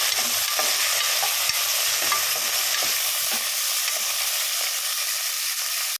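Green chillies frying in hot oil, a loud, steady close sizzle with faint crackles and occasional stirring taps, no voices, cutting off abruptly at the end.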